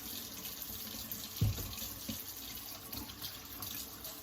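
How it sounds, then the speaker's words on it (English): Water from a sink tap runs steadily while hands are washed with soap, with a brief louder splash or knock partway through. "I will take a little bit of soap and wash my hands"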